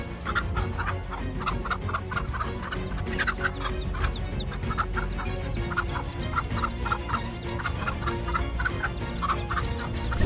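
A hen defending her chicks from a snake, giving rapid, agitated clucking and squawking calls in close, busy bursts over a noisy background throughout.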